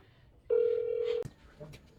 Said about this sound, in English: Wait, me answer the phone.